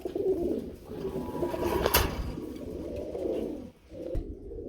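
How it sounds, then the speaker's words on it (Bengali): Lahori pigeons coo in low, rolling murmurs close by, several calls overlapping steadily, with a sharp brief rustle partway through. "লাহোরি কবুতর দেখাবো বন্ধুরা, সম্পূর্ণরূপে কোয়ালিটি ফুল লাহোরি।"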